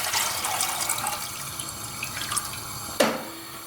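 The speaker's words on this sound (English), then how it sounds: "We're going to add 4 cups of water to the pan." Filtered drinking water pours steadily into a pan on a stovetop set to high, making a continuous splashing hiss that ends with a brief clink near the end.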